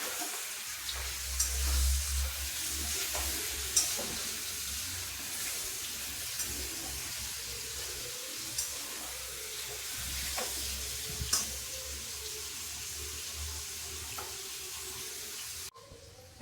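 Paneer pieces fry lightly in a pan. A soft, continuous sizzle runs close by under a low background hum, with occasional small clicks and clatters and no talking.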